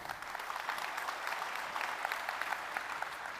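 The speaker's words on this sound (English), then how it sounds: "I'm getting a lot of applause here" Dense, steady applause from a keynote audience at a large data and AI summit, continuous clapping filling the hall from start to finish with no voices above it.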